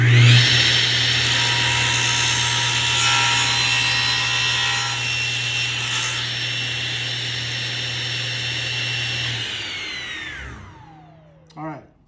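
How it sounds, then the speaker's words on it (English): A power saw cuts a 45-degree angle across the end of a board on a sled, a loud steady whining cut running about ten seconds before the blade winds down, followed by a brief knock. "cut the end of this board so that we have a 45 on the end of that"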